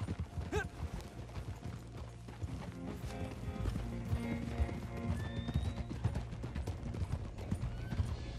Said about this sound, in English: So we're going to be rustling up some horses.